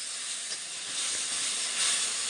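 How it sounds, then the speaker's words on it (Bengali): Spice paste with whole cumin sizzles and hisses steadily in a hot pan while being fried, a loud continuous close-up sizzle with no talking. "মশলাটা কিছুক্ষণ কষিয়ে নিয়ে"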